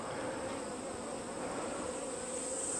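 Honeybees from a queenless hive with laying workers buzz continuously and densely at the opened hive, a close, steady drone with no talking.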